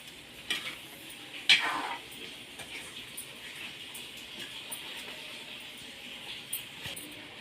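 A spoon stirs gongura chicken curry in a pot, giving soft scrapes and a couple of sharper clinks against the metal over a faint simmering hiss, with no voices.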